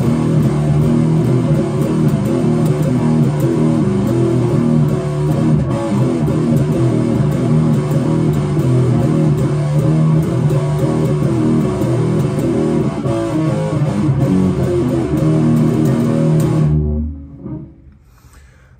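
Loud, saturated electric guitar power chords drive the chorus of a song in a steady dense pattern, ending with a final chord that rings out and fades.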